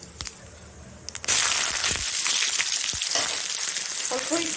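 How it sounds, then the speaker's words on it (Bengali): Cumin seeds hit hot oil for tempering in a Bengali home kitchen, bursting into a loud, steady crackling sizzle after a quieter start and continuing close and bright throughout with a few sharp pops. "জিরে ফোড়ন"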